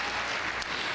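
Short burst of congregational applause in a church service, a dense, steady wash of clapping with no pause.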